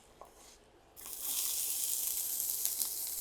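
Onions drop into hot oil and burst into a loud, steady sizzle after a second of quiet, frying continuously up close.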